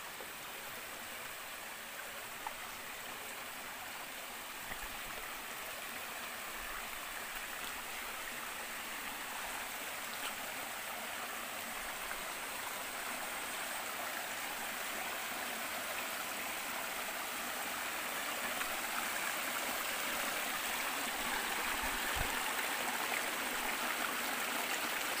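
A river stream flows steadily nearby, a dense, even rush of water that holds unbroken for the whole stretch and swells slightly louder toward the end.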